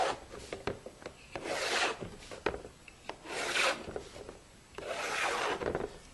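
A pencil drawing lines along a straight edge to mark a grid, three or four sustained raspy scratching strokes with small ticks between, close and quiet.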